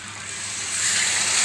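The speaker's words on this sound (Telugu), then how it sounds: "మనం కొంచెం వాటర్ పోద్దాం" Water is poured into a mutton and tomato curry in the pan, making a soft hissing rush that swells louder partway through and keeps going to the end.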